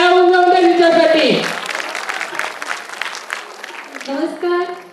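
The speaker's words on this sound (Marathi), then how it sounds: "एका टाळ्या होऊन जाऊ द्या तिच्यासाठी." A live audience breaks into applause for the host at the Fugdi Darshan 2019 curtain raiser, a folk-culture event in Goa. Dense clapping swells for about three seconds between stretches of amplified tonal voice or music.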